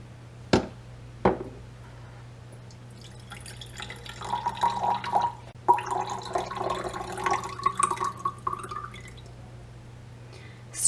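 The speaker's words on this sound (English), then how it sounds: "Strain this water." Milky rice water is poured and strained into a jar bought from a dollar store, giving a few sharp drips at first and then a steady trickling pour, close and fairly quiet, with no one talking.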